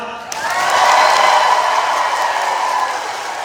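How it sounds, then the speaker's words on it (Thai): Applause and cheering from an audience at a Droprich training event fill a steady wash of many clapping hands, loud and sustained from start to finish with scattered whoops, while a voice talks over it. "ขอเสียงปรบมือเลยครับ"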